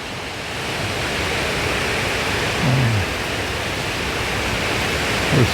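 Remnants of Hurricane Helene bring rain and wind in Broughtontown, Kentucky, as a steady, dense outdoor wash of noise with no breaks, moderately loud throughout.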